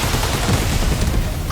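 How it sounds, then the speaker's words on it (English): Gunfire, impacts and an explosion from the mecha battles of the 13 Sentinels: Aegis Rim video game, a dense, loud, continuous barrage of bursts and crashes filling the whole stretch without pause. "you heard some weapons fire, some impact sounds, and then an explosion, followed by some sounds like electronic sparks"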